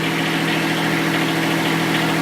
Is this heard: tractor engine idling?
yes